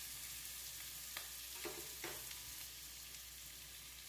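Spice paste of ground onion, dried red chili and tomato with turmeric and salt frying in a pan, a steady soft sizzle with a few faint stirring scrapes, heard alone.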